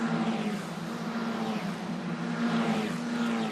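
Euro 4 Championship race cars at Mugello Circuit, the field racing up through San Donato: a loud, continuous engine drone from several cars at once, steady throughout with no pause.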